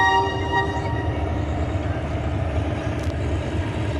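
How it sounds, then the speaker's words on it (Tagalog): A passing train gives a close, continuous rumble and rattle of wagons, with a horn tone fading early on. "Ayan ang train. May train, may train, may train. May train na dadaan."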